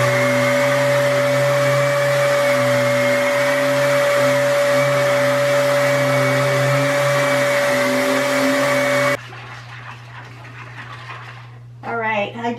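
A shop vac hooked to a power tool for dust collection runs loud and close with a steady high-pitched whine, then cuts off abruptly, leaving a quieter hum under brief talk at the end.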